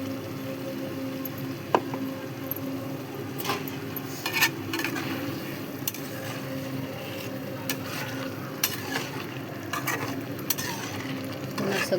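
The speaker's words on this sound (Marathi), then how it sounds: "पुन्हा सगळं मिक्स करून घेतलेलं आहे" Chicken biryani mixture being stirred in a pot, soft scraping and scattered clinks of a spoon against the vessel over a low steady cooking hiss, with no talk.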